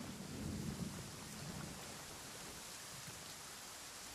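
Steady rain with rolling thunder in a video game, a dense, continuous wash of noise with a deeper rumble early on, no voices present.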